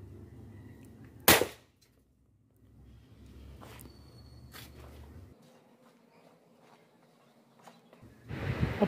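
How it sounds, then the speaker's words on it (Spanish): A Derringer Mendoza pistol fires a single sharp, loud shot outdoors during a test, followed by quiet ambient noise and faint rustling. "vamos a las pruebas de disparo"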